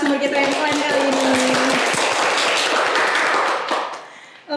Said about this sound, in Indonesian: kita kasih tepuk tangan dulu ke narasumber kita yang keren kali ini